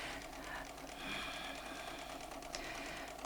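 A Bernina sewing machine runs steadily while quilting with a ruler and template, a soft, fast mechanical whir with faint ticking, fairly quiet and alone.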